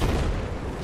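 Gunfire in the video game Battlefield 4 during a headshot: a short, dense burst of booming shot sound, loud and close, with no talk.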